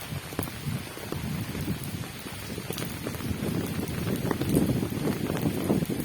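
Steady rain pours over a rural homestead with cows and a banana field, a dense continuous patter that swells slightly louder toward the end, with no voices.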